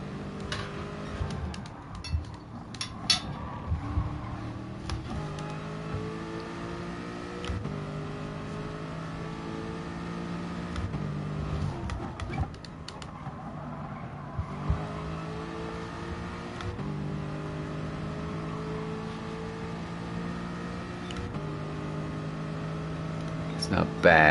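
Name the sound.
car engine and braking in GT Sport video game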